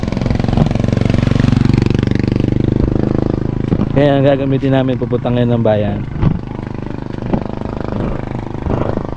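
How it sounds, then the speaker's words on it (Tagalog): A borrowed motorcycle engine idling and running nearby, a steady mid-pitched putter under someone speaking close by, with the engine sounding on its own near the end. "Ito yung motor."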